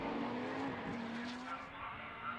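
Lotus Elise S1 race cars with supercharged Honda engines lapping Brands Hatch in a one-make trophy race, a loud continuous engine drone with a steady pitch holding close by throughout.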